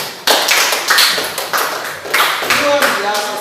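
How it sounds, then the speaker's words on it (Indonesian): Schoolchildren clap together in a classroom, a quick run of bright, uneven claps that fills the room for a few seconds, with voices mixed in. "Tepuk tangan dulu untuk kita semua."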